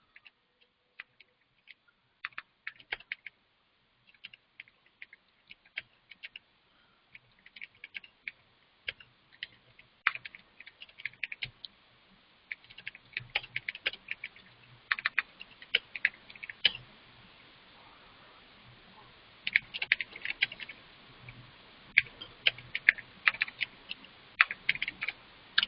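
Computer keyboard typing at a desk as notes are written, coming in irregular bursts of soft key clicks with pauses between, quiet and close, and growing denser toward the end.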